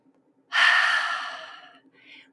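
A person in a yoga session exhales one long, deep breath out through the mouth that starts suddenly and fades over about a second, followed by a short, softer breath, close and clear in a quiet room.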